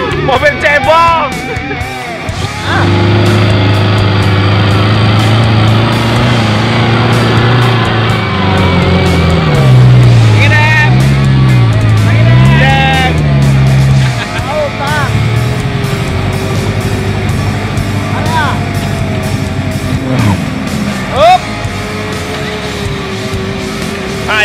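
A small tadpole-style off-road car revs its engine on a muddy trail at Danau Tangkas, Muara Jambi, a loud sustained drone rising and falling in pitch for about twenty seconds, with shouting and crowd chatter around it.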